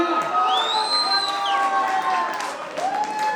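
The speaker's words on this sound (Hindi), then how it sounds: "जोरदार तालियां" Cheering and whooping crowd at a sangeet night wedding celebration, with excited voices and whistles over clapping, loud and close throughout as the host announces a dance performance.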